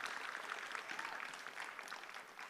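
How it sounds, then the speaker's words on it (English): Faint, distant applause from a crowd at a chenda melam arangettam, a steady patter of clapping heard from far off throughout. "Please give yourself a big round of applause for that."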